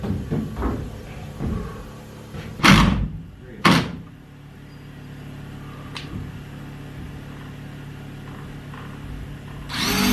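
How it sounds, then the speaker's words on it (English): A wooden pocket door in a log home under construction slides into the wall, with two sharp knocks and a thud, a later faint click, and a closing bump after a long quiet stretch. "She just slides it right on into the door there"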